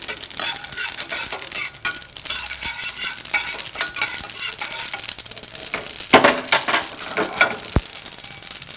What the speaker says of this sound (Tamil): கடுகு நல்லா பொரியுது பாருங்கள்.